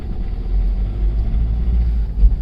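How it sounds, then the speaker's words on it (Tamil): Volkswagen Polo/Vento engine with a faulty fuel injector, being revved: a loud, steady low rumble with a rough, rattling character that swells slightly near the end, no voices. "இன்ஜினோட சவுண்டே ஒரு மாதிரி ரேஸ் பண்ணும்போது கரக்கரன்னு அடிக்குது பாருங்கள்"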